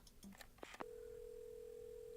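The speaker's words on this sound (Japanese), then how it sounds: "わあ、電話かけるよ。" Telephone dialing in the video game Assemble with Care: a few quick, quiet tones as the number is entered, followed by a steady held tone on the line.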